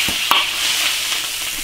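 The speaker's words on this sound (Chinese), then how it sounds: "先把辣椒炒一下" Green chili peppers stir-fry in a little oil in an iron wok, giving a steady bright sizzle with a quick scrape of the spatula.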